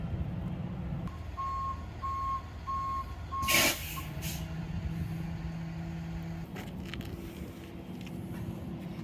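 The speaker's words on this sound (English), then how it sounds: "I'm gonna bring the bed back a little further, tip it down" A tow truck's hydraulic bed whines as it slides back and tilts down while reversing beeps pulse steadily, followed by a sharp hiss of released air and continued mechanical humming.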